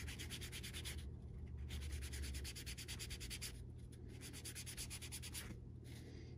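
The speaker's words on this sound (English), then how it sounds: "Lightly sanding." Quiet, rhythmic rubbing strokes of sandpaper lightly sanding a leather edge in quick back-and-forth bursts, pausing briefly between passes, close and faint with no talking.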